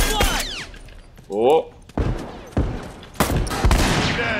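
A shotgun blast rings out in The Last of Us Remastered Factions multiplayer. It is one of several sharp, loud game gunshots and impacts mixed with a player's brief exclamation.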